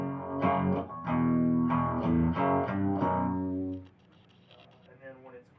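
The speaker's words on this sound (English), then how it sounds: "the really trippy phaser, and then the regular phaser." An electric guitar strums sustained chords through a sweeping phaser effect on a rig with Randall and Ampeg amplifiers, loud and close, then stops and leaves a faint hum and quiet noise.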